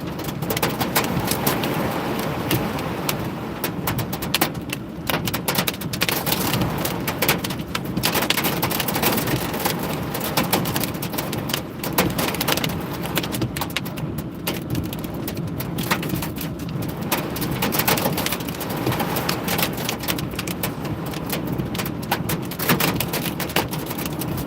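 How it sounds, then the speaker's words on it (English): Torrential rain with hail pours down in strong winds on the north side of Manhattan, a dense, unbroken roar of water and gusts that stays loud and close throughout, with no voices. "North side of Manhattan by the Vista hamburger joint. Torrential rain. Strong winds."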